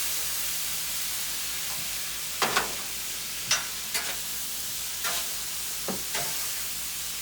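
Sausage sizzles in bacon grease on a Blackstone griddle, a soft steady hiss punctuated by several sharp scrapes and pops of a spatula.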